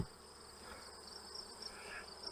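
Bees buzz around a hive box with a medium super set out for them to leave, a soft, steady insect hum spread evenly through the short stretch with no voices.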